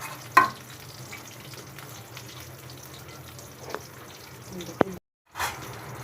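Pre-fried fish goes into a cooking pan for a thin fish curry with potatoes and beans, bringing a soft sizzle broken by a few sharp clatters and a short silent gap near the end.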